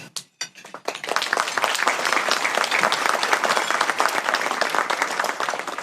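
Audience applause for sponsors of a community event on preventing gender-based violence, a few scattered claps growing into steady, dense clapping from a full room that holds at an even level throughout.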